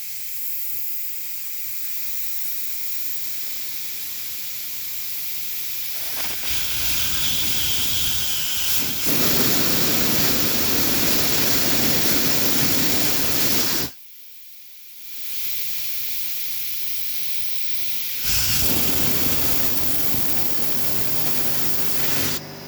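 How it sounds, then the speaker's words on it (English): Compressed air blown through the pilot side of a Keihin PWK carburetor jet block during an O-ring replacement gives a loud steady hiss in several long bursts, with one short pause midway. "Now we're gonna blow some fuel air in the pilot side."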